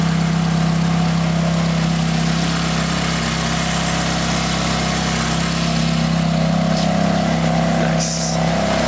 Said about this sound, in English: As you guys can see, this massive engine right here, 500 horsepower.